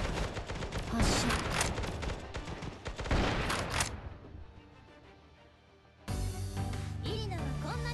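Gunfire from the video game Angel Squad, loud dense bursts of shots for about four seconds, then a quieter stretch before a sudden loud burst of sound returns near the end.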